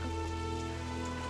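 Steady rain falls at night, a dense continuous hiss of drops on surfaces with no break, under a low constant hum.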